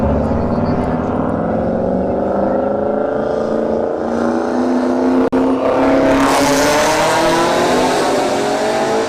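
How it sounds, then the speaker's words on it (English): A Ford station wagon drag races a Shelby GT350 at Bradenton Motorsports Park. Loud engine roar climbs steadily in pitch as both cars accelerate down the strip, with a sharp brief crack midway and the noise surging again afterward. "Station wagon goes 145 miles an hour"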